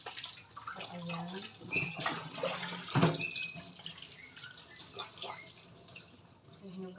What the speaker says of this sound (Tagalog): Buti na lang meron lang daloy ng tubig.